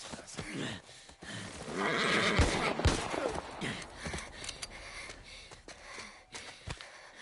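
A horse whinnies and snorts up close in The Last of Us Part I, a drawn-out neigh with breathy huffs and some rustling movement around it.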